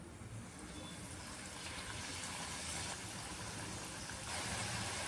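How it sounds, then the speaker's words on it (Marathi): Oil sizzles and crackles steadily as French fries deep-fry a second time, a dense, continuous hiss at low volume with no talking. "आता आपण यांना सेकंड टाईम तळणार आहोत"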